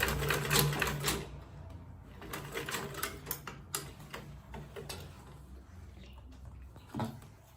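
Sewing machine back stitching at the edge of a clutch purse, with close mechanical ticking in short bursts and uneven pauses under a steady background hum.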